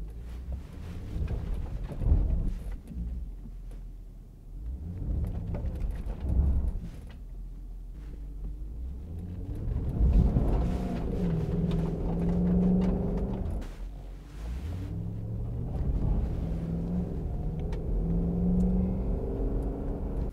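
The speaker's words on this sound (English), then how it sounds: "One of the reasons I wanted to come out here was just find a bit of loose surface. Just want to provoke the ABS into action." Jaguar XK8 driving over loose gravel, a low rumbling engine and tyre roar with crunching surface noise, surging and easing in waves as the ABS is provoked, heard close from inside with buffeting wind noise.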